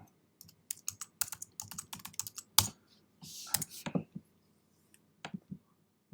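Bursts of typing on a computer keyboard, close and crisp, with irregular clusters of key clicks, a couple of louder clacks and short pauses between runs.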